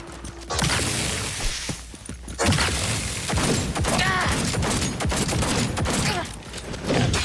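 Gunfire in Cyberpunk 2077, a burst of sharp shots with thuds and mechanical clatter layered over dense game effects, moderately loud, with possible brief voice underneath.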